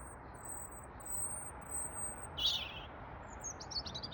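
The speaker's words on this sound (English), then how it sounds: "Sometimes robins sing all through the night," A robin sings at night under street lights, its thin, high chirping phrases faint and distant over a steady low background rumble.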